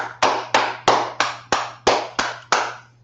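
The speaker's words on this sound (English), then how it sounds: "Let's clap it up for the Lord." Eight sharp, evenly spaced claps ring out close and alone during a live online class, each with a short fading echo and a steady low hum underneath.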